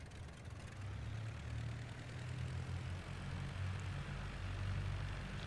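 Gotha G.V biplane engine in a flight video game, a steady low propeller drone that holds loud and even as power is increased on the takeoff roll, with no talk over it.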